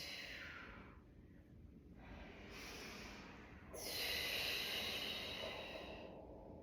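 A long exhale during an exercise routine on a mat, a steady breathy rush that swells louder near the end, with no talking.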